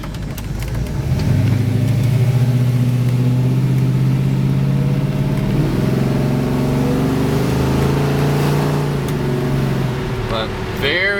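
A 1962 Chevrolet Nova II with a blueprinted 383 engine pulls away and climbs toward cruising speed, its engine note rising in a steady, loud drone heard from inside the car.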